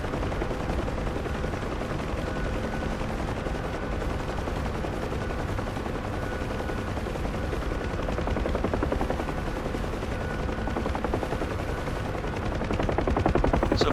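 Dense, steady rotor and turbine roar of a UH-1 Huey helicopter in the DCS World flight simulator as it comes in to land at the end of a runway, loud and continuous, swelling slightly toward the end.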